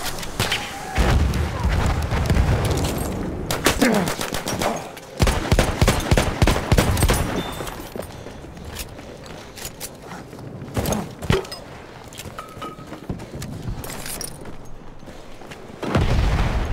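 Battlefield 1 combat: grenade blasts and heavy thuds mixed with rapid rifle and machine-gun fire, dense and loud throughout, with sharp bursts recurring and a final boom near the end.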